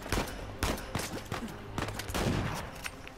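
Rapid gunfire in the video game Uncharted 4 on hard difficulty cracks out in repeated sharp bursts, close and loud, with no talk.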